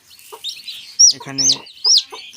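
A brooding hen clucks among her newly hatched chicks, with high chick peeps scattered around a few low clucks, close up, and a voice speaks briefly.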